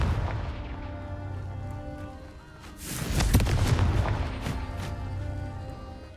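Confringo explosion spell cast in Hogwarts Legacy: a whooshing rise bursts into a loud, crackling blast with low rumble, set against a steady game music bed.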